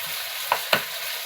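Cumin powder and ginger stirred into tomato frying in oil for a Bengali prawn and taro dish, a steady soft sizzle with two brief louder scrapes of the spoon.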